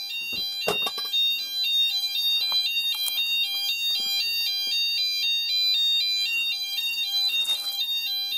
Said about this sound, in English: so that's both heat detectors activated